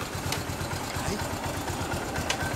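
A Yamaha SR400 or SR500 single-cylinder motorcycle with a custom exhaust runs with a fast, even low-pitched thumping idle, steady and close, with a faint voice in the background.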